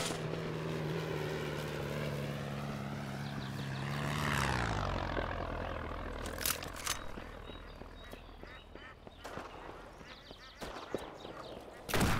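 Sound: crop duster plane flying over in video game Shotgun Farmers

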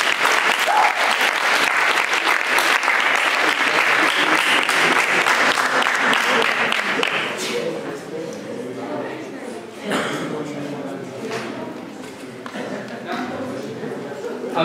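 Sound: audience applause

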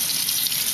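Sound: filling a pot with water from the tap

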